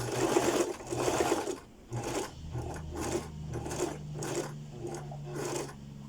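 Sewing machine topstitching fabric in steady bursts of fast mechanical chatter, close and fairly loud, with short stops and restarts between runs.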